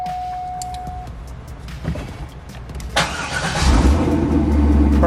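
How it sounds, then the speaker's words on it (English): A Corvette's engine cranks and catches, followed by a loud steady idle rumble after a few seconds of quieter clicks and shuffling. "Start the car."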